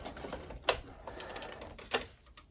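A sewing machine backstitches fabric in short bursts, with two sharp clacks standing out among softer mechanical ticks, all close and fairly quiet.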